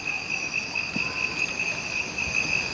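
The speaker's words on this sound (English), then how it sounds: "What I'm going to do is just do the cricket samples." Crickets and frogs trill in steady, overlapping calls, a continuous high-pitched chirring layer that holds evenly throughout with a faint low rustle beneath and no voices.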